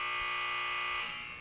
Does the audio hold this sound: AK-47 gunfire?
no